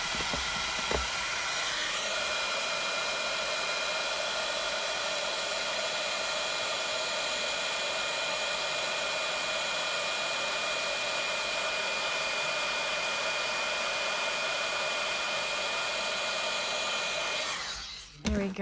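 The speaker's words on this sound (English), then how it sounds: "And we're gonna use the heat gun, so here we go." A heat gun melting embossing powder on a stamped card, a loud continuous blowing hiss and fan drone held steady for about seventeen seconds, close by and then cutting off abruptly.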